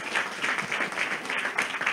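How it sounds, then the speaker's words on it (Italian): An audience at a political party's candidate presentation in Rivarolo claps in a soft, steady patter of applause heard from some distance, without pause. "Vi invito a fargli un applauso"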